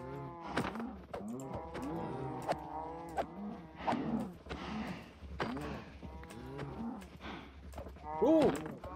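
Minecraft cows moo repeatedly in a game, several drawn-out calls overlapping one another at moderate volume, with faint clip-clop sounds between them.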